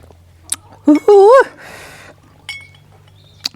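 A food container lid is opened with a few sharp clinks and a scraping rattle, brief and close, separated by quiet gaps.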